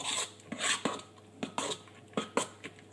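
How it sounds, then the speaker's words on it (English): A large spoon stirs butter-coated blueberries in a bowl, giving a series of scraping, rubbing strokes at an irregular rhythm, close and moderately quiet, with no voices. "So with a larger spoon, I'm just going to stir it in to make sure that all the butter is kind of coating all the blueberries."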